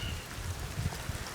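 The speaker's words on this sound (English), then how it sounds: "It's starting to rain kind of hard now." A steady wash of rainfall hisses across everything, with scattered low patters of drops hitting a surface, fairly quiet and continuous.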